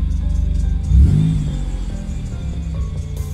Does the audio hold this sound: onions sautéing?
no